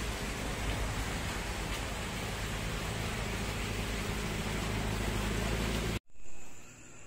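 Heavy rain in Tabang, Guiguinto, Bulacan roars as a constant broadband hiss, then cuts off abruptly near the end.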